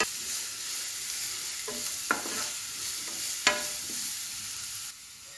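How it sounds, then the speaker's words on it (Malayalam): Sliced onion sautés in a pan as stuffing for fish-stuffed cabbage rolls, giving a continuous close sizzle broken by a few sharp spatula scrapes and taps, then easing off near the end. "സവാള വഴറ്റാം."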